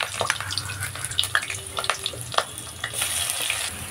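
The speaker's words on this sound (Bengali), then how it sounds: "গরম তেলের মধ্যে 2 চামচ রসুন বাটা দিয়ে দেব" Garlic paste sizzles in hot mustard oil in a pan, a close, crackling fry broken by stirring clinks and scrapes, with the hiss growing louder near the end.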